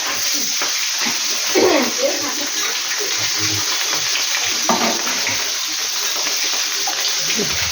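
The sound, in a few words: fish frying in a pan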